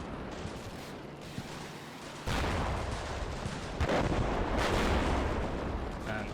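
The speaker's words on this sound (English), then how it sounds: "Various explosions." Explosions and artillery fire in the video game Combat Mission Shock Force 2 make continuous booming rumbles, swelling with sudden heavy blasts.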